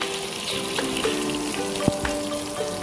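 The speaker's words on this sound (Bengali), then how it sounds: "অর্ধেকটা তেল আমি এখানে দিচ্ছি তাতে দিয়ে দিলাম জিরে ফোড়ন" Cumin seeds crackle in hot oil left from frying shrimp, a dense close sizzle with scattered pops and a few light utensil clicks throughout.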